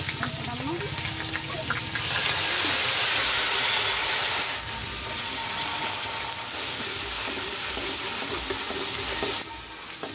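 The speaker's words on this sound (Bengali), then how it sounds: "ভালো করে নেড়ে দেবো যাতে কড়াইয়ে না লাগে" Bay leaves, whole cumin and chilli sizzle loudly in hot mustard oil in a wok and are stirred, giving a continuous crackling fry with scraping of the spoon throughout.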